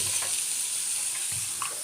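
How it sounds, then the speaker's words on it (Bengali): Spice masala fries in a pan for a chicken and potato curry and is stirred, giving a faint, steady hiss with a few soft scrapes; no voices. "এবার এটা একটু ভাজা ভাজা হবে।"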